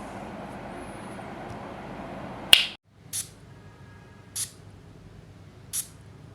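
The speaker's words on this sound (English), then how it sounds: "The atomizer actually sprays decent amount of juice." Perfume atomizer on a Paris Corner Dream Catcher bottle, a clone of Dolce & Gabbana The One EDP, giving one sharp close spray hiss followed by three shorter, quieter puffs at steady intervals over a faint background hum.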